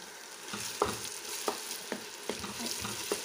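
Meat with tomato paste sautéing in a pot for beans, a steady soft sizzle broken by about six sharp spoon scrapes and clinks against the pot at a regular pace, close and moderately loud with no voices.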